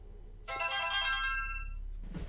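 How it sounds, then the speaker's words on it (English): A mobile phone ringtone chiming in a melodic burst, fairly faint, in the horror game Eternal Darkness, without talk. "that's my phone."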